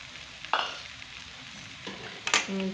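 A spoon stirs sugar through semolina halwa in a pan, giving a few short scraping strokes and a soft sizzle, close and moderately quiet, with no voices.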